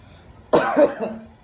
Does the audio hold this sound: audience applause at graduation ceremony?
no